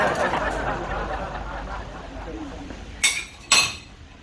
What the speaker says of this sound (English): So I'm gonna keep stirring